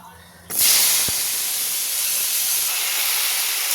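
Jujubes (kul) hit hot oil in a kadai with a sudden loud hiss that settles into a steady, close sizzle, with one brief clatter just after the drop.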